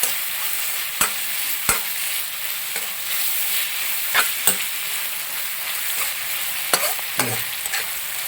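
Vegetables for a Kerala-style vegetable stew are stirred in a hot pan. A soft sizzle runs underneath, broken by sharp, irregular scrapes and knocks of the spoon against the pan, with no talking.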